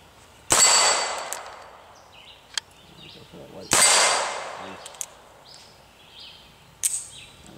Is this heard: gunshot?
yes